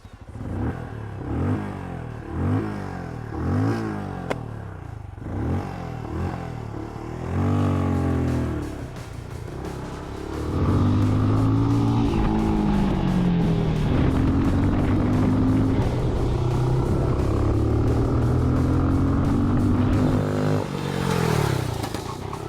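A Benelli Imperiale motorcycle laps the Motor-Land Dziekanów race track, its engine revving up in rising sweeps with repeated gear changes, then settling into a loud, sustained drone as it accelerates hard nearby.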